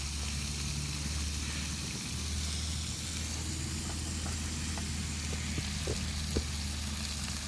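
Köfte meatballs fry in a pan at an outdoor highland cookout, giving off a steady, moderately loud sizzle and crackle that runs unbroken from start to finish with no talk over it.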